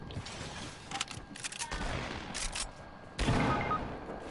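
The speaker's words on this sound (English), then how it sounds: "Oh, they're shooting at me." Enemy gunfire in the squad shooter game Squad, scattered bursts of shots at moderate distance, with a louder crack near the end over a rumbling background.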